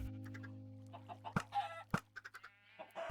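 Several short chicken clucks in quick bursts over a steady electronic hum, sounding synthetic and game-like, from a Minecraft automatic chicken cooker farm.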